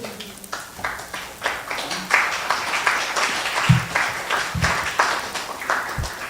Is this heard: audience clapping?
yes